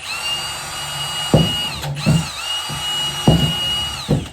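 A high-pitched power drill whines steadily, punctuated by several sharp bursts as the bit punches holes through the top of a plastic tub, close and loud.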